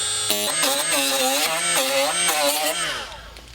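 A grinder sanding down a plastic part during a repair gives a steady, close whine that bends up and down in pitch as pressure on the pad changes, with a rough scraping texture throughout.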